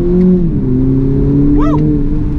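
A 2019 BMW Z4 G29 engine revs hard under launch control and accelerates away, its pitch rising and then shifting up, loud and close with a steady roar throughout.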